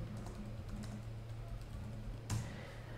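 Typing on a computer keyboard in a quiet room, soft rapid key taps close by over a low background hum, ending with one firmer keystroke, no talk.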